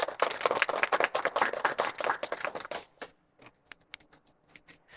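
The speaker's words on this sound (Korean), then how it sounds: "박수 치고 시작할까요?" Teachers in a lecture hall clap together, a dense burst of hand claps for about three seconds that thins into a few scattered, softer claps before fading out.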